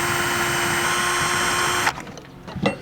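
A power drill whirs steadily at high speed drilling through a fridge slide, then stops abruptly, followed by a few clicks and knocks.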